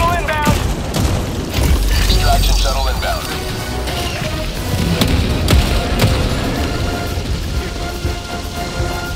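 Orbital strike explosions in the co-op shooter game Helldivers 2 boom and crash in a dense, loud barrage, with deep thuds layered over constant battle noise and people talking throughout.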